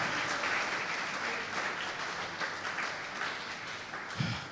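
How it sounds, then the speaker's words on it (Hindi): A church congregation claps loudly and steadily in a sustained round of applause during worship, the dense clapping easing slightly before a brief bump near the end. "जोरदार तालियां खुदावंद के लिए।"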